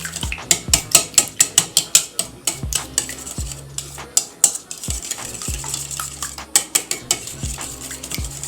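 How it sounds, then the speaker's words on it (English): Eggs whisked with a little heavy whipping cream in a bowl for breakfast, heard as a close, steady run of rapid metallic clicks and scrapes with no talking. "I'm going to add just a little bit heavy whipping cream and just whisk these up."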